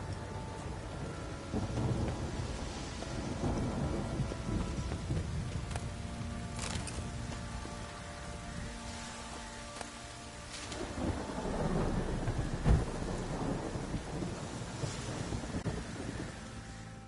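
A thunderstorm in the video game Witcher 3 pours constant rain with gusts of wind, while deep thunder rumbles rise and fade several times, one sharp crack standing out near the end.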